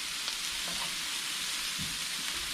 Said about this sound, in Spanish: Nuestra salsa ya está lista, ya está hirviendo, ya está bien guisada.